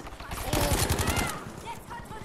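Rapid automatic gunfire in Battlefield V multiplayer, a fast rattling burst of shots up close that tails off, with a voice speaking over it.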